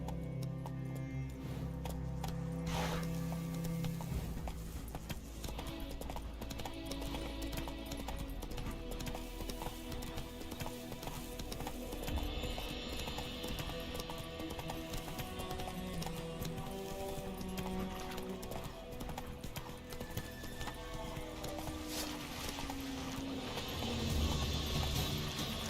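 Horse hooves clip-clopping at a steady gallop in the game The Witcher 3 Wild Hunt, a continuous rhythmic beat under a loud, dense music score that runs the whole way through.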